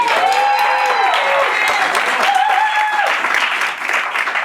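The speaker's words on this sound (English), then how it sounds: "you can give him a round of applause" A theater audience at a live evening talk-show taping applauds a band member, broad sustained clapping with musical tones ringing over it before it begins to thin toward the end.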